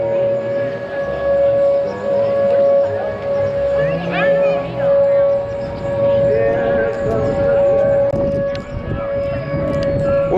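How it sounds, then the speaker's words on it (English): Tornado siren wails through an amusement park during a storm warning, a sustained steady tone with slight wavering under ongoing conversation nearby. "Tornado sirens going off."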